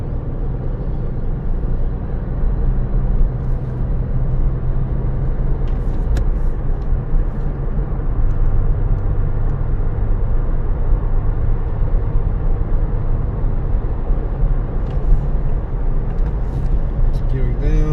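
A Porsche Boxster 986 fitted with a newly replaced IMS bearing drives on a road test. A steady low engine drone and road rumble continue throughout, with brief faint clicks above.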